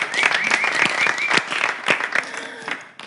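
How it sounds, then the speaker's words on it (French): Lively studio audience applause on a French talk show, bursts of clapping with a few sharp individual claps standing out, fading near the end with a faint tonal sound underneath. "On applaudit pour elle."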